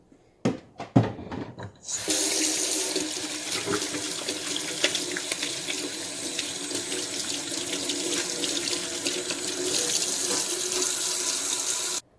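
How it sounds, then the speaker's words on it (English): Tap water pours steadily into a kitchen sink while hands are washed with soap, a loud continuous splashing rush that follows a few brief knocks and holds unbroken for about ten seconds. "So I'm gonna wash my hands right now with a little soap."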